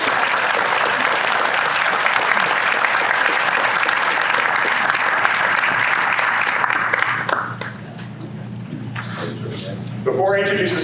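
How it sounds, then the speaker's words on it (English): Broad, sustained applause from a breakfast awards audience, loud and even for about seven seconds before tapering off, followed by a speaker's voice resuming. "please share a round of applause for this support"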